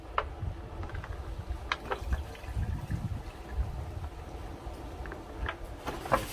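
Juice from a smoked ham pan on a Pit Boss pellet grill poured off into a container, a low, uneven trickle and dribble of liquid with a few small clinks, fairly faint and close, with no talking.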